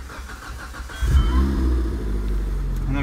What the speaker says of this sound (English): Let me just try and start the car.